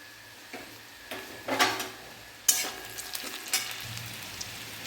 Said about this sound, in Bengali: দেখুন বন্ধুরা, পেঁয়াজ ভাজা হয়ে গিয়েছে।